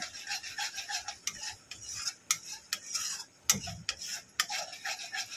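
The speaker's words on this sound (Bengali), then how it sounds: "ভালো করে একটু কষিয়ে নেব" A spoon scrapes and rubs through soybean curry sautéing in a pan, with repeated rhythmic scraping strokes and sharp clinks against the pan, close and clear with no talking.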